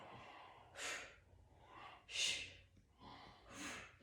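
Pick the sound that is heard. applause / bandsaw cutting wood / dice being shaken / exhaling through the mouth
exhaling through the mouth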